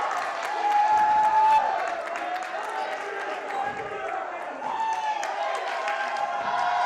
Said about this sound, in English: The Wayne County cheering section getting loud here